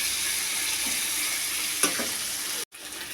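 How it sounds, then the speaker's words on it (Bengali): Capsicum and tomato frying in a pan, a dense continuous sizzle close by with a brief clatter near the end, no talk. "এবার ক্যাপসিকামটা আর টমেটোটা ভাজা হলে পরে আমি মশলাটা এক এক করে দেবো।"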